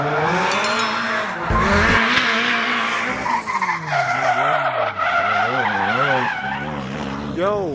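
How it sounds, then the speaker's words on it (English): Several cars drifting on a road after a car meet, with loud, continuous tire squeal and wavering engine revs that swell and dip across the whole stretch, close by, with voices faintly underneath. "today we are out here watching different cars drift"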